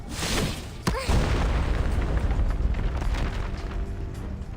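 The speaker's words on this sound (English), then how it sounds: "The explosion knocks her off balance." An explosion sound effect in a story reading: a sharp, loud boom followed by a long rumbling roar of debris that gradually fades, with no voice over it.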